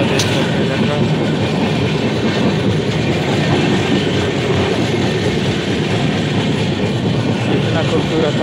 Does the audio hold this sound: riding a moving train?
yes